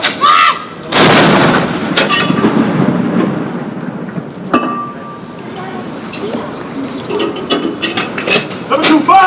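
Ceremonial 21-gun artillery salute fired jointly by US and UK soldiers at Edinburgh Castle, with loud booming blasts, the biggest near the start, rolling echoes and clinks between shots, and voices in the background.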